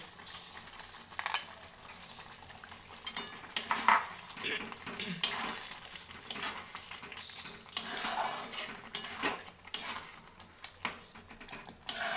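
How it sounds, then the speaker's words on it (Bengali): Grated paneer stirred and sautéed into a thick gravy, with repeated metal spatula scrapes and clanks against the pan in uneven bursts over a quiet background. "এবার আমি গ্রেট করা পনিরগুলো দিয়ে দেব, আর খুব অল্প সময়ের জন্য একটু কষে নেব"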